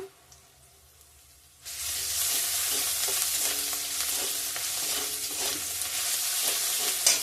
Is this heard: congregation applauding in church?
no